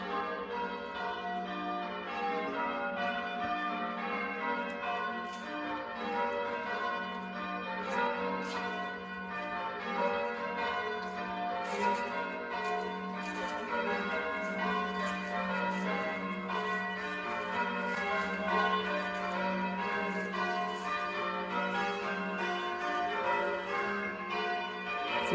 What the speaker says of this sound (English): I've never actually heard the bells from outside.